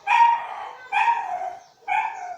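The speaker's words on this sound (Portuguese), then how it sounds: "o cachorro latindo e ficando louca" A dog barks three times in close succession, loud and near, each bark drawn out with a slight howling tail, in an otherwise quiet room.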